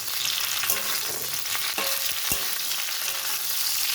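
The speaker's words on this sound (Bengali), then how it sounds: "কপিটা কিন্তু ভাজা হয়ে এসেছে।" Cauliflower florets sizzle steadily as they fry in a pan for chilli cauliflower, a dense continuous crackle with a few sharper pops and stirring scrapes, close and alone with no talk.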